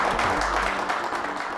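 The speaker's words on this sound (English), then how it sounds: "Can we give those people a round of applause?" A short burst of steady audience applause after a talk, a dense wash of clapping with a low hum beneath it early on.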